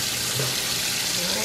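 Steady running cold tap water splashing into a sink as grapes are rinsed, continuous and close.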